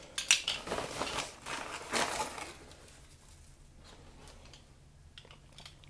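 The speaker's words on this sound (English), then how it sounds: "So then get your teaspoon out, get a scoop of sugar" A metal teaspoon clinks and scrapes while scooping sugar during home pizza dough prep, a few sharp close clicks and rustles early, then quieter faint scraping.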